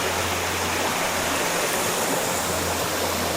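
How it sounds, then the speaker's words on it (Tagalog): A river at a campsite in Siniloan, Laguna flows in a constant, loud, broadband rush of water with no talking. "Ayan yung ilog."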